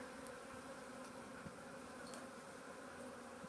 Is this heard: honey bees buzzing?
yes